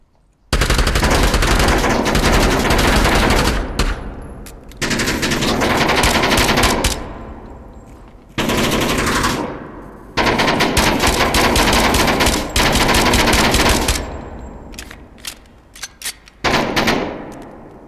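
Submachine gun fire in the Onward VR shooter on Oculus Quest 2, likely a P90 or MP5, loud sustained automatic bursts of several seconds each separated by short pauses, with a few brief trailing shots near the end and no talk.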